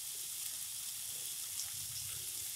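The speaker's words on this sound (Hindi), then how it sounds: "मटर को हमने 1 मिनट तक भून लिया है" Peas frying with spices in a pan make a steady, soft sizzle with faint crackles, close by and unbroken, with no talking.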